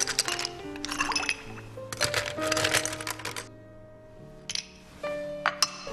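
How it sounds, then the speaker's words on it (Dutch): Ice cubes poured into a jenever cocktail glass, bursts of rattling, tumbling clatter in two main waves followed by a pause and a few more clinks as cubes settle, close and clear with no voices. "En dan vullen we ons glas gewoon op met ijsblokjes."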